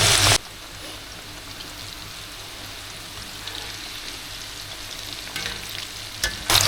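Oil bubbles and sizzles in a pan during cooking, a steady soft frying crackle that runs throughout, with a few louder bursts at the start and end.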